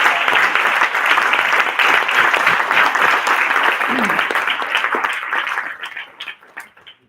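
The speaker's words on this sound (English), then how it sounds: "I would propose a big applause for receiving this" Applause from delegates at the CIOFF General Assembly, a full, dense round of clapping that holds steady for several seconds, then thins out and fades to a few last scattered claps.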